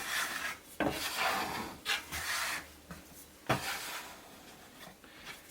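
Sourdough bread dough is turned and pulled across a wooden board, producing soft repeated rubbing and scraping strokes with light thumps, close and quiet, with no talking.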